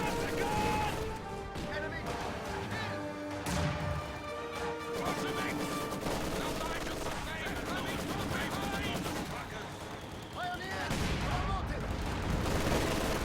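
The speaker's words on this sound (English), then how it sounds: "Mortar continues to bombard that machine gun right there" Mortar shells pound a machine gun position in a video game battle, with repeated booming impacts and crackling gunfire running steadily and loudly throughout, while a commentator talks over it.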